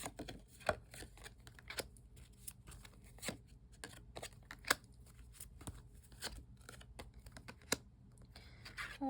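Tarot cards are shuffled before a draw, giving a quiet, uneven patter of soft card clicks and snaps that continues steadily throughout, with no talking.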